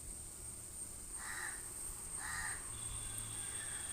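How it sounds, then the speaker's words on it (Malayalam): Outdoors, a crow gives two short caws about a second apart. They sound fairly distant over faint steady background noise. "ഈ കാക്കയുടെ കാര്യം"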